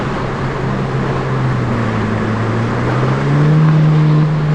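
A swapped K24 engine in a Honda Fit pulls hard under acceleration, its loud steady drone rising in pitch toward the end as VTEC engages, with no talk over it.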